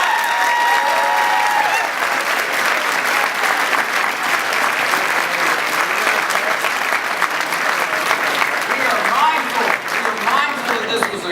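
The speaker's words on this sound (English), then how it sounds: "This next round of applause is not for me or for anyone up here." Crowd applauding at an election-night victory event for a Virginia congressional race, loud sustained clapping throughout with cheering and a few voices mixed in.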